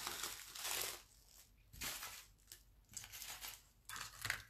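A small piece of plastic is handled and crinkled during a craft project beside thick cardboard, giving quiet, intermittent rustling bursts up close with no voices.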